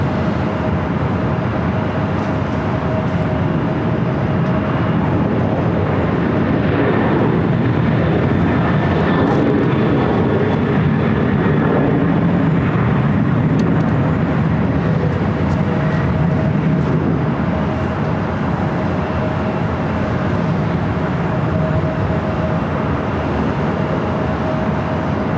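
A Spirit A320 or Singapore 777-300ER airliner roars continuously at LAX, a loud, sustained broadband engine rush that swells in the middle and holds throughout, with no voices.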